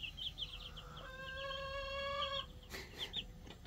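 A hen gives her drawn-out egg-laying call, a sustained tonal squawk, with softer clucks before and after, faint and somewhat distant in a backyard coop.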